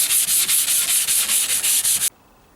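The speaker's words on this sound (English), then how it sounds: "I'm just going to give this a little sand down, just to take any rough edges off" A glue-primed painting surface is sanded by hand to smooth rough edges: about a dozen quick, even, rasping strokes in steady rhythm, close and loud, then abrupt silence.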